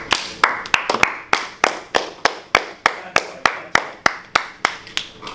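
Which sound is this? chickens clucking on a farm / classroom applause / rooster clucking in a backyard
classroom applause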